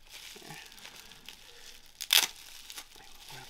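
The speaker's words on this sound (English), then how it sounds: "I will unwrap it so you can all witness the cuteness." A Harmony Kingdom trinket box is unwrapped close by, with soft crinkling of its wrapping that builds to one sharp, loud rustle and tear midway, then fades to quieter crinkles.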